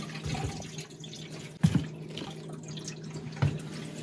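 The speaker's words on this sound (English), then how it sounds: "this freaking garbage disposal like just leaks like a sieve" Water drips and leaks from a kitchen garbage disposal under a sink, with a low steady hum beneath and two distinct louder drip impacts spaced about two seconds apart.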